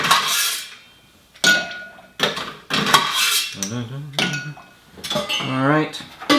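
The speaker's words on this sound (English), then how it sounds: "give this a little bit of a stir" A cocktail stirred over ice in a glass, bright clinking and rattling of cubes against glass and spoon in short repeated bursts, with a voice speaking in between.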